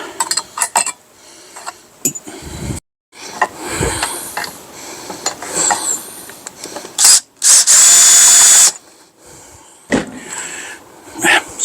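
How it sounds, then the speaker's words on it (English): A power screwdriver works screws on a Husqvarna Automower robotic lawn mower. It makes loud, close, whirring bursts of varying length, separated by quiet gaps and handling clatter. "screwing machines."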